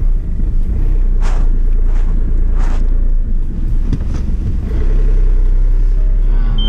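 An Audi A2 with an ABS sensor fault drives along, giving a loud steady road and engine rumble with wind buffeting the microphone and a couple of brief higher tones over it.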